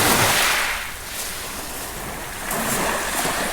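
Waves from a lake washing over a rocky, agate-strewn shoreline, a loud, close rushing surge that eases and then swells again, with some wind buffeting the microphone.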